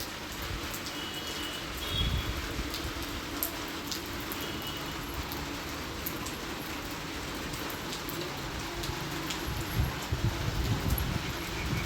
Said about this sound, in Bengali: এই দেখো ছাদে চলে এলাম বৃষ্টি তো নেমে গেছে